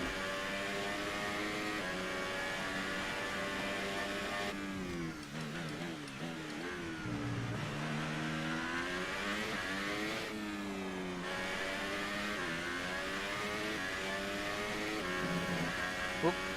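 A Formula 1 car in the racing game F1 2018 at the Australian Grand Prix, its engine droning loudly and continuously with pitch rising and falling through gear changes as it slows and accelerates, a player talking over it.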